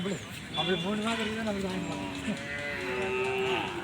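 A Kangeyam cow moos at a busy cattle market, one long drawn-out low call that rises and falls, followed by a second sustained moo, with voices talking close by throughout.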